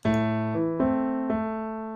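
A sustained MIDI synth chord plays legato, with notes shifting smoothly into one another at about half a second, then twice more, without any break between them.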